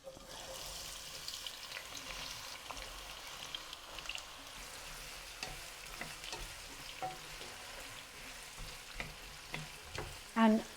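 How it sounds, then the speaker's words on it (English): Onions shallow-fry in oil on low heat, a soft steady sizzle with occasional stirring clicks and light utensil taps growing louder near the end, no voices. "these onions are going to be fried low and slow"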